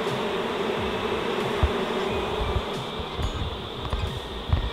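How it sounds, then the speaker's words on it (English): A bee buzzes loudly right against the camera at a beehive during night-time beekeeping, a steady close drone with small flutters and bumps throughout. "Is there a bee stuck in your camera?"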